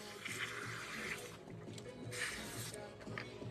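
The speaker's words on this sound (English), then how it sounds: "Let me get a quick wash." Running tap water splashing steadily over hands during a quick wash, a continuous close rush with small surges and dips in flow.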